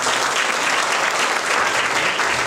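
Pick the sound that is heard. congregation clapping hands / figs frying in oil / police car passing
congregation clapping hands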